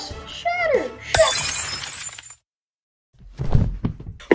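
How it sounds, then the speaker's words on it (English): Crystal or glass shattering in an animated show: a sharp crash followed by a bright tinkling spray of falling shards, preceded by cartoon voices and effects and followed by a gap, then more speech. "Shatter."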